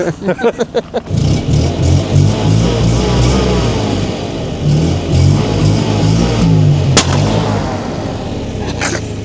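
A sports car engine revs loudly and steadily for most of the clip, with a sharp pop near the end and a rapid burst of pulses at the start.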